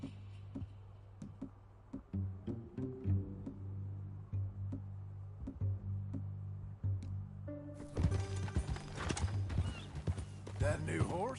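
Horse hooves clip-clop in Red Dead Redemption 2, a steady walking rhythm under a low droning score, with louder clattering hoofbeats and movement noise joining near the end.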